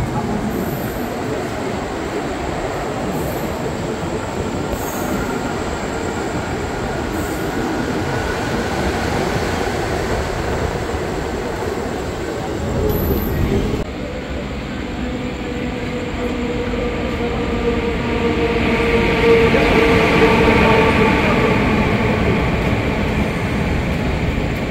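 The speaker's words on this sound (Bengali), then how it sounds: "আমাদের ট্রেন আন্দুল ছাড়লো" A passenger special train, Digha to Dakshineswar in 2S class, heard from inside as it runs on after leaving Andul station: loud steady rumble of wheels on track with squealing tones and a shift in character partway through.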